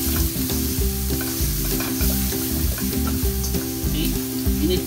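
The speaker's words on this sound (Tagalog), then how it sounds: "And then you add the garlic." Garlic sizzles and crackles in a hot pan while being stirred for a spicy blue crab dish, a steady loud frying hiss with repeated scraping stir strokes and no voices.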